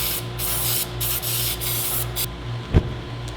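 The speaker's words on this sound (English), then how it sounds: "I'm gonna spray it with some brake cleaner" An aerosol can of brake cleaner hisses in several close, loud bursts of spray onto a Miata differential, separated by brief pauses, with a faint thump near the end.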